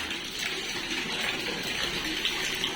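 Water runs steadily into a drum, a continuous rushing gush that stays close and even throughout, with no voices.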